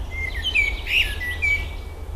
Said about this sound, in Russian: Замечательный певец леса крылышками подрыгивает, прямо как специально вот солирует для нас.